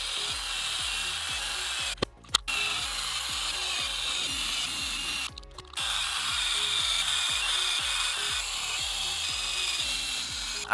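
Steady whirring of a small powered screwdriver driving screws while an MJX Hyper Go RC car is reassembled, a rapid ratcheting buzz broken by two brief pauses.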